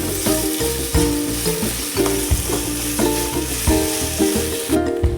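Poha is stirred in a pan with coriander-cumin powder, with a steady rhythmic scraping and clanking of a spatula against the pan over a low frying sizzle, close and alone, with a background tonal hum throughout.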